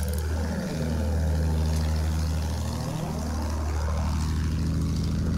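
A propeller plane in Battlefield 1 drones loudly and continuously, its engine pitch sweeping down and back up as it passes, with a steady low hum throughout.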